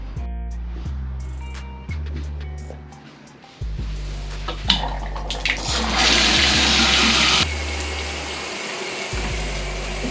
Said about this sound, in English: For now, let's just jump in the shower.